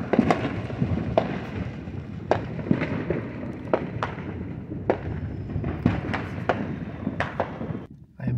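Fireworks going off outside crack and thump repeatedly at irregular intervals, some sharp and near, others duller and farther away, over a constant rumbling background.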